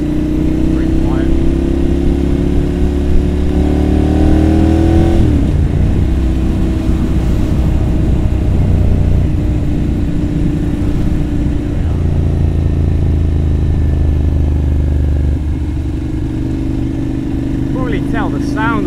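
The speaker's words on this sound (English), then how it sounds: "the sound of the bike is absolutely unbelievable" Ducati Monster 796 motorcycle engine running while riding on a quiet road, a loud, steady, close drone with harmonic bands that shift pitch through gear changes and throttle, continuing without a break for the whole stretch.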